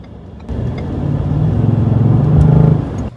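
A Ford F-150 pickup engine rumbles up loudly as it accelerates, the deep revving building for a few seconds before cutting back.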